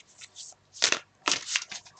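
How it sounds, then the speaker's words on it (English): Tarot cards shuffled by hand during a live reading, giving two or three quick papery riffling bursts with short quiet gaps between them, close and fairly soft, with no talking. "I'm going to keep shuffling"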